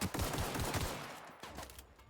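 Rapid bursts of electric pistol fire from The Outer Worlds, a dense run of loud close shots packed together for about two seconds before easing off.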